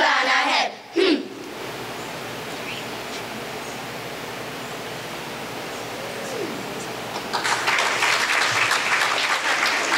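Applause from an audience after a primary school children's choir performance at a Trinidad and Tobago festival, a steady wash of clapping throughout that swells louder toward the end, with brief crowd noise at the start.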